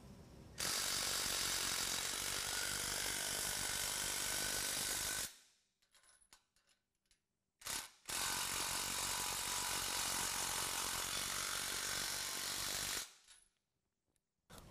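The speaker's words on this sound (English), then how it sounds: "Now we can go ahead and tighten up this hardware. We're going to use a 19 millimeter on each side." A 19 mm tool tightening coupler hardware bolts while assembling a DK2 Mighty Multi Utility Trailer, heard as two long, loud, steady bursts of close mechanical whirring separated by a few seconds of near quiet with small clicks.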